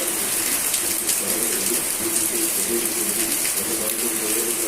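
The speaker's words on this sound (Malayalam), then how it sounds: "നല്ല മഴ കേട്ടോ ഗൈസ്" Heavy rain pours down in a steady, dense wash of noise that never lets up, close and loud throughout.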